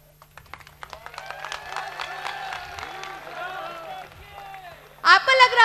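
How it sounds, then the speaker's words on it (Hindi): An audience at a magician's stage show claps, building from scattered claps into steady applause, with a louder burst at the end and a voice talking over it. "आपको लग रहा होगा ना कि ये लोग ताली क्यों बजा रहे हैं"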